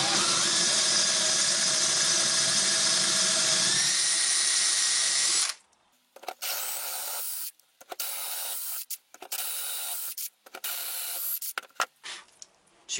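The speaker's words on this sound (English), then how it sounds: "So now I'm going to make a few plugs using the larger cutter." A drill fitted with a larger plug cutter bores wooden plugs, first a long steady high whine for several seconds, then a series of short loud bursts with brief pauses between them.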